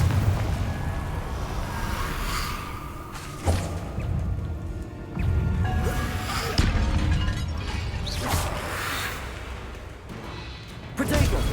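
Repeated booming blasts of the Confringo explosive spell in Hogwarts Legacy, several heavy thuds and bursts spread across the stretch over a rumbling game background.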